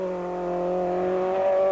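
A Volkswagen Golf Formula 2 rally car on a 1995 mountain trial gives a close, strong engine drone with a clear steady tone that rises slightly in pitch as it builds revs.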